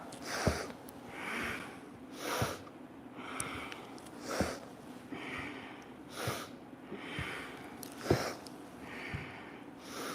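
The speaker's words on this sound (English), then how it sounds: "Inhale and exhale." Rhythmic breathing during a Kriya yoga exercise, with steady inhales and forceful exhales repeating about every two seconds, close and clear, with no talking.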